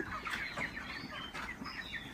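Broiler chickens cluck and chatter on a farm before dawn, a busy overlapping flock sound of short repeated calls, fairly close and continuous with no voices.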